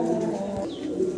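Pigeons at a pigeon farm give a soft, close coo, a brief low murmuring call with light background rustle.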